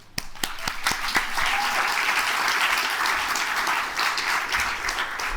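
A crowd breaks into loud applause, scattered claps at first quickly swelling into sustained clapping that carries on steadily.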